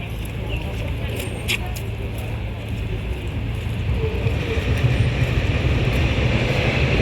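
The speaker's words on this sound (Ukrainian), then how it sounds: "Звуки потягу." A train rumbles steadily, loud and close, with the low roar swelling toward the end, as heard in Kyiv.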